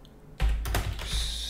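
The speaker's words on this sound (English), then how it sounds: "I'm not the fastest typer." Fingers typing on a computer keyboard, a quick run of soft clattering keystrokes that starts abruptly and continues steadily for about a second, close and fairly quiet.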